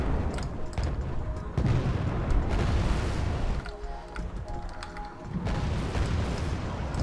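Explosions from Alpha Jet bombing runs in Wargame: AirLand Battle, a dense rumble of booms and blasts that runs nearly throughout, dipping briefly in the middle before swelling back loud.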